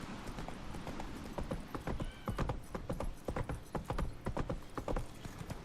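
A horse's hooves clip-clop at a steady walking pace in The Witcher 3: Wild Hunt, crisp rhythmic strikes close up, growing slightly busier midway, with no talk.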